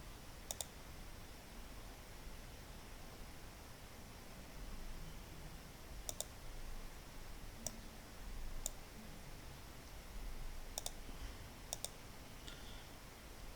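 Sharp mouse clicks sound at scattered intervals over a quiet background hiss while working in Microsoft Word, each click brief and isolated with no voices present.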